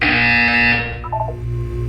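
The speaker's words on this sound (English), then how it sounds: "You will hear a buzzer. When you hear the buzzer, look up at the ceiling." A loud, harsh electronic buzzer in the game Portal 2 blares for under a second and cuts off, followed by a few short synthetic beeps over a low hum.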